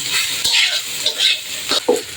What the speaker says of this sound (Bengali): তো আমাদের প্রায় ভাজা ভাজা হয়ে এসেছে আর কিছুক্ষণ।